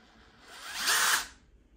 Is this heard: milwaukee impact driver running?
yes